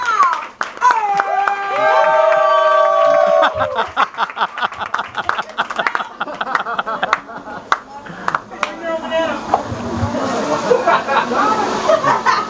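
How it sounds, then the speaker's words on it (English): A crowd at a poetry event breaks into clapping and whooping amid loud, shouted voices. A few sharp hand claps at first build into scattered applause, with people talking throughout. "Y'all start clapping right now."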